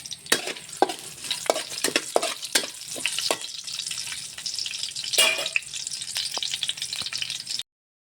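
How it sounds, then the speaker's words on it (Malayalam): Mustard seeds crackle and pop in hot oil in a home kitchen pan, a steady sizzle with scattered sharp pops and stirring clicks throughout, close and alone. "കടുക് ഒന്ന് പൊട്ടട്ടെ"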